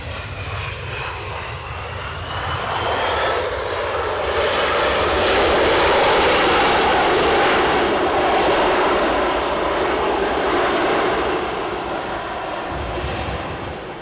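An Embraer 170 at Edinburgh airport passes with a loud jet engine roar that swells to a peak in the middle and eases off again, with a faint high whine sweeping through early on.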